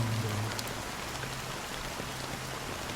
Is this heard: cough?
no